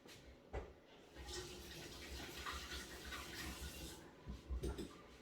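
Water runs from a sink tap as hands are washed, a faint, steady splashing stream with a few louder splashes and knocks near the start and end.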